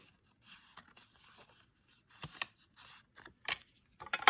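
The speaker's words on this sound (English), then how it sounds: "I'm going to fold on the 2 score lines." Paper card stock being folded along two score lines, giving soft crinkling and scraping bursts, with a few sharper creases toward the end, close and quiet, no voices.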